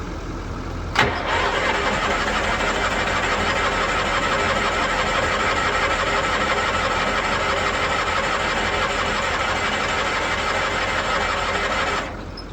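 An ARGO's engine cranks steadily and loudly for about eleven seconds after the choke is pulled and the carburetor is primed with a shot of ethanol-and-oil mix, and it never catches before stopping.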